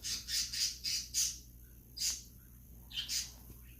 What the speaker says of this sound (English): Oh my God, these birds!